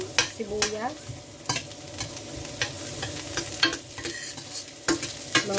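Onions being sautéed in a pan for a Filipino coconut-prawn dish, with a steady sizzle under repeated scraping and clattering stirs of the spatula, close and fairly loud.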